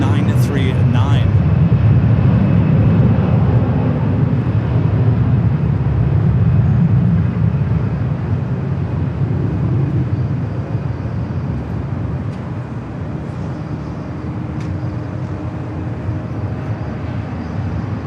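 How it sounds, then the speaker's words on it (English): A Delta 767-300ER jet airliner at LAX gives off a broad, steady roar, louder at first and then fading, beneath someone talking. "that Delta 767-300ER flight heading to JFK"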